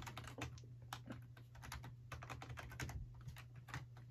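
A 2020 HP computer keyboard being typed on: quick, irregular plastic key clicks in close succession for about four seconds, quiet and close, over a low steady hum.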